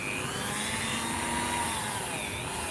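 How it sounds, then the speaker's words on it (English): A Dremel rotary tool polishing solder joints gives a steady, close, high-pitched grinding whine over broad hiss, its tone shifting slightly as the tool loads and slows; no voices. "You can hear me how much the Dremel's slowing down."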